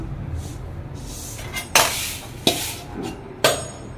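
Metal pots clank and scrape as Kerala-style fish pickle is moved between them, with three sharp, ringing knocks standing out over a quiet room.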